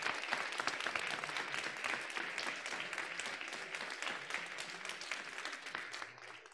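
Sustained round of applause from a ceremony audience at a digital health event's closing ceremony, steady dense clapping throughout, fairly faint and distant, easing slightly at the end.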